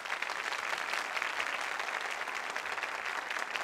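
A TV studio audience claps steadily, a dense, even wash of applause that holds at the same level throughout.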